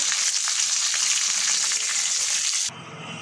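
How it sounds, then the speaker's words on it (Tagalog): Small talangka shore crabs fry in hot oil, giving a steady dense sizzle with crackling pops, close and continuous before dropping abruptly to a quieter hiss near the end, with no talk. "Luto na ang aking fried talangka."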